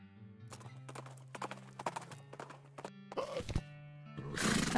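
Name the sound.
horse hooves clopping, from a video game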